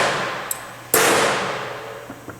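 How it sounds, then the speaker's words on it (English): A hammer knocks down the metal end clips of a Riv-Nail belt fastener, giving a light tap and then one sharp, ringing metallic clang that fades, with a couple of faint taps after it. "We'll take our hammer and we'll knock down the two end clips."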